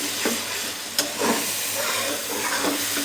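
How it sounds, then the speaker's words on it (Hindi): Spices frying in a pan over medium-low heat are stirred with a spoon, giving a steady sizzle and hiss with a few scraping strokes of the spoon, close and continuous, with no talk. "अच्छी तरह से चम्मच हिला देंगे।"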